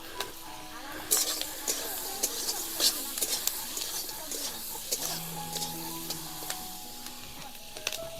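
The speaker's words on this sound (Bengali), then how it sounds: "এবার আমি বাটার দিয়ে দেবো এবার কেটে রাখা পেঁয়াজ ক্যাপসিকাম দিয়ে ভেজে নেব" Chopped onion and capsicum fry in butter in a hot kadai, a soft continuous sizzle broken by sharp clicks and clatters of stirring, with a faint voice in the background.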